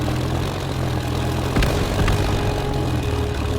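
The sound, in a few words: propeller plane flying in video game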